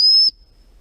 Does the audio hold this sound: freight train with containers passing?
no